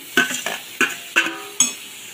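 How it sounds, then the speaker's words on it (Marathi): Dried shrimp stirred into a pan of fried onion, giving five distinct scraping and clattering strokes of a spoon against the pan, close and moderately loud, with a faint sizzle underneath. "आता आपण यामध्ये जवला घालणार आहोत, जो जवला मी धुवून घेतलेला आहे"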